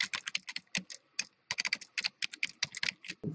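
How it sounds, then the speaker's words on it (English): Brisk typing on a computer keyboard, close and fairly quiet, with quick irregular clusters of key clicks and short pauses between bursts. "And I'm going to type in the"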